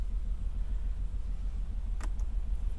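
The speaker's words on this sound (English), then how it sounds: "That's the sound of my car" A car engine runs in a low, steady rumble throughout, with a brief faint high click partway through and no talking.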